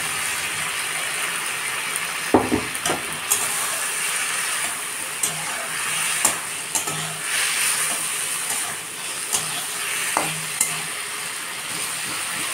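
Fried taro pieces are added to a cooked-down spice paste in a pan and sizzle steadily, with scattered scraping and clinking of a spatula stirring through the mixture.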